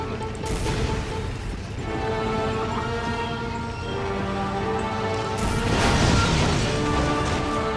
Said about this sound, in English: That's an ordinary hand grenade